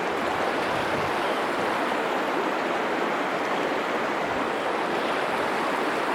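A New Zealand river flowing through a trout fishery, a steady, full rushing wash of water that stays close and even throughout with no voices.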